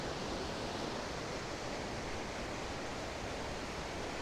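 Snowmelt creek water rushing down a mountainside in a gold-mining area near Gold Bridge, a steady, dense broadband roar that stays constant throughout with no voices.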